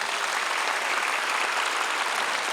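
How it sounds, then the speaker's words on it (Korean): A church congregation applauds in thanks to the bereaved families of patriotic martyrs at a Sunday peace-and-reunification prayer service, a thick, even wash of many hands clapping that holds steady throughout, with no voices over it. "다시 한번 순국선열 유족들에게 감사의 박수를 보내야 합니다."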